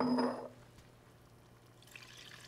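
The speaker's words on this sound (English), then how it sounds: "I'm gonna add water to the side of this until it's starting to cover" Water is poured into a pot of braising chicken thighs, with a brief close splash at first that fades into a soft, faint trickle.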